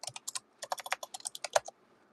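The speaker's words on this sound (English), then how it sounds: "Let me type in." Rapid, close keystrokes on a computer keyboard come in uneven bursts of clicks for about two seconds, with no voice over them.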